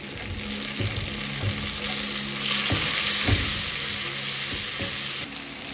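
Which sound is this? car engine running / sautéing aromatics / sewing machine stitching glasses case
sautéing aromatics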